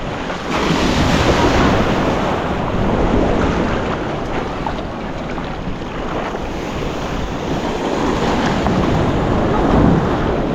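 Choppy sea heard from a small boat out on the water: a constant loud roar of waves and wind buffeting the microphone, with no clear voices.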